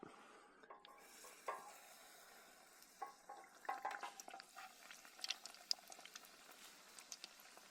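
Biscuits deep fry in very hot oil that still carries cinnamon from earlier rolls, at an outdoor desert backcountry campsite. A faint, steady bubbling crackle is broken by scattered clicks and scrapes as they are turned.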